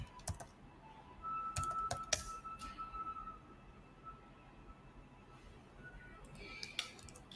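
Typing on a laptop or PC keyboard while working in Notepad, heard as scattered soft key clicks in short bursts over a quiet room background, with a few sharper taps standing out.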